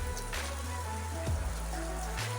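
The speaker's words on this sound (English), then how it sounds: "Yes, guys, rain a fall." Rain falls steadily outdoors, a soft continuous hiss with a low hum underneath and no voices.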